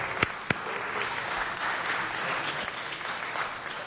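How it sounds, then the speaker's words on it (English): Steady round of applause from the audience at a city council meeting for a young reverend, opened by a couple of sharp distinct claps before the crowd's even clapping fills in. "Everybody give the young reverend a round of applause."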